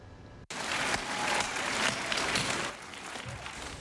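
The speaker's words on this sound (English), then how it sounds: "At the church, a standing ovation and a round of applause for the icon" A church congregation at a funeral for blues legend B.B. King rises in a standing ovation, dense sustained applause cutting in abruptly after a brief quiet moment, then easing slightly but continuing.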